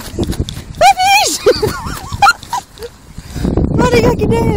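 Six-week-old puppies yip and whimper in short high bursts from a nest, heard under an adult voice cooing and talking over them.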